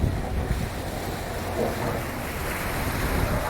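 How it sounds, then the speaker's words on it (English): Gusty wind buffets the microphone over steady wave and water wash as a boat motors along the Intracoastal Waterway in North Carolina, a loud, continuous roar with no talking. "Beautiful, a little gusty, but kind of chilly."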